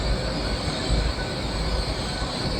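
Transport for Wales trains rumble through a Cardiff station, a continuous loud roll of wheels on rail with some squealing and a broad low hum, heard alone without talk.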